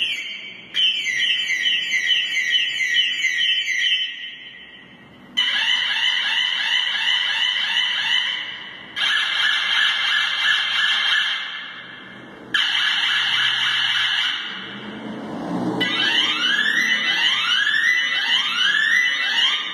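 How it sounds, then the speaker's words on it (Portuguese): Electronic bicycle horn built into a rear bike light with turn signals, cycling through its eight sound modes: loud, close bursts of warbling siren-like and chirping electronic tones, each mode separated by a brief pause, with no talking. "Esse tem uma buzina, que tem 8 tipos sonoros."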